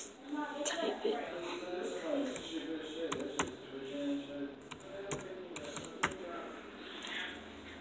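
A computer keyboard is typed on in bursts of sharp, close clicks and key taps, with voices talking underneath throughout.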